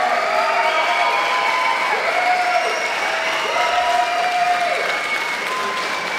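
Audience applause at a musical theatre event in Holíč: steady, dense clapping from a large crowd filling the whole stretch at even loudness, with a whistle-like tone rising and falling over it.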